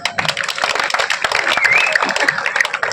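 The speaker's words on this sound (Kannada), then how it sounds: "ಈಗ ಒಂದು ಚಪ್ಪಾಳೆ ಟೈಮ್ ಇದೆ." An audience claps at an evening comedy show in Tumakuru, a dense, steady burst of applause lasting a few seconds with a faint whistle rising through it.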